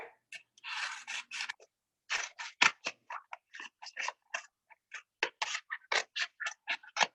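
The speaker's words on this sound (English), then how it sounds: "you cut all the way across" Scissors snip through a cardboard egg carton in a steady series of short, crisp, crunchy cuts, close and fairly loud, with a brief rustle at the start and no talking over them.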